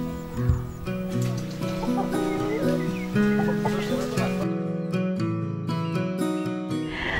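Indonesian free-range village chickens cluck and call close by, with overlapping clucks and short squawks under a steady bed of background music.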